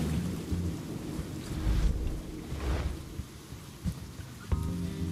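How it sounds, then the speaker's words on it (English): Rumbling thunder from a lightning strike in the video game Albert & Otto, rolling and crackling at moderate loudness for several seconds over a steady rain-like hiss, with sharper bursts near the end. "And I didn't press the fucking lightning button."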